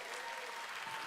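Congregation applauding during a church sermon, a dense steady wash of clapping with no talk over it.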